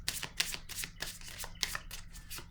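Tarot cards are drawn and handled from a deck, giving a quick series of soft papery flicks and slides close by, with no talking.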